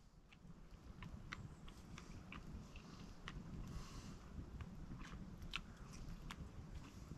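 Close, soft crunching and chewing of a blackberry bush pasty eaten outdoors by a campfire in a forest, with repeated small bites over a low, steady background rumble.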